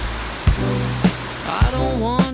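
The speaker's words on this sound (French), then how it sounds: "il s'amuse sous la cascade d'eau" A waterfall on Ilha Bela island in Brazil roars as a steady, loud broadband wash, with a few sharp thumps and tonal squeaks over it.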